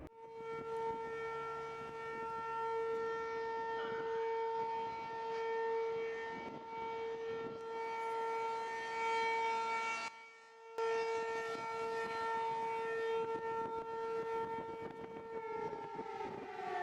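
Camden's outdoor warning sirens wail steadily with sustained tones, one fading out before another rises, carrying loudly across open air for the whole stretch.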